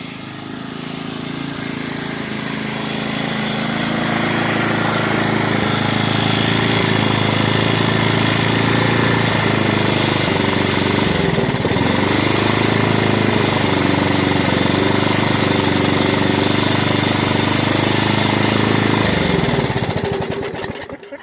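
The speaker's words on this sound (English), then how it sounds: "What a great little mower." A Rover 460 petrol lawn mower engine runs steadily and loud, a continuous rough mechanical drone that builds in over the first seconds, holds, then cuts out near the end.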